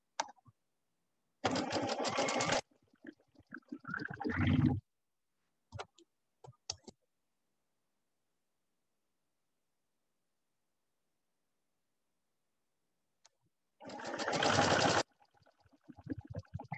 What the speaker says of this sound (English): I'm just going to sew the pieces together that need to be and not break my thread.